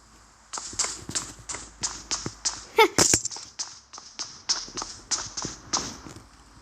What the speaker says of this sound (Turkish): Ayak seslerini duyuyor musun?